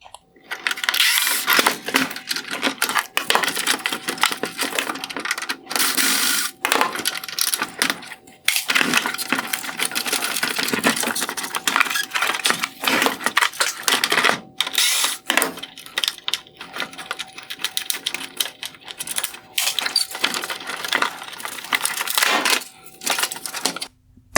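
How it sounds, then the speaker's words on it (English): A driver spins T20 screws out of the front bezel of a 2019-2021 Infiniti QX50 LED headlight, giving a continuous close ratcheting, clicking whir with brief pauses throughout. "I will begin by removing the T20 screws holding on the front bezel"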